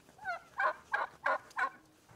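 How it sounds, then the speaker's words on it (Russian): A turkey gobbles nearby in a rapid series of about five throaty, warbling calls, fairly loud against a quiet background. "Индюк."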